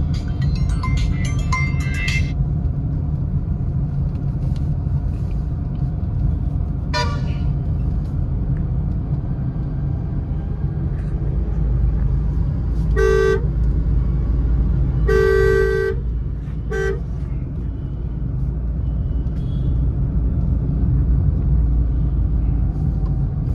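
Car horns honk in busy Indian road traffic during a first driving lesson. Several short toots and a couple of longer blasts, some near and some farther off, sound over a constant engine and road rumble.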